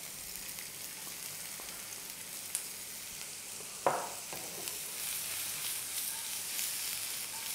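Onions fry in a pan on low heat for a no-oven pizza, with garlic already in. A steady soft sizzle runs throughout, with a couple of brief clinks of stirring.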